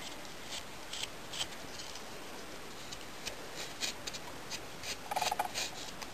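A knife carves a small wooden dove relief ornament, rounding off the edges of earlier cuts with faint, light scraping and ticking strokes, close and quiet, with a brief cluster of quicker scrapes near the end.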